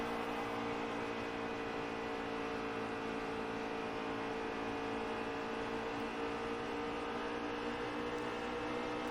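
Race car engines in the NASCAR Heat 3 video game at the Michigan track hold a steady, loud drone with a dense whine throughout, running at high speed without any talk.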